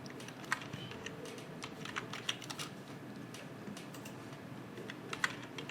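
Typing on a computer keyboard during interior design work in ARCHICAD, heard as a steady run of light, close key clicks with irregular rhythm over a quiet background hum, no voices.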